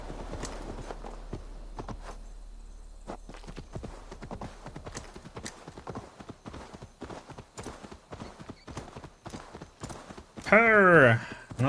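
Horse hooves clip-clop in a steady walking rhythm in Assassin's Creed Valhalla, close and crisp, ending with a loud whinny near the end; a voice speaks briefly over the hoofbeats.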